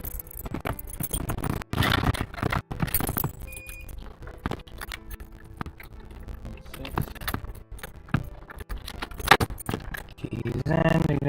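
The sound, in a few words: car keys jangling while inserted into the ignition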